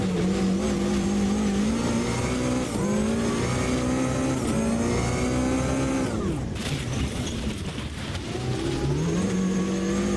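A supercar engine in the racing game Automobilista 2 drones loudly and steadily, its pitch rising through the revs, dropping briefly on a gear change or lift-off, then climbing again.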